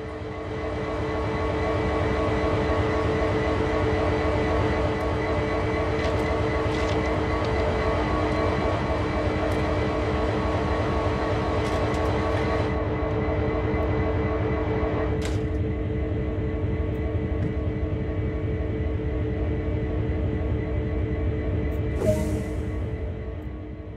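An SD40-2 diesel locomotive in the video game Train Sim World idles with a steady, humming engine drone and tonal whine, running continuously with a few faint clanks.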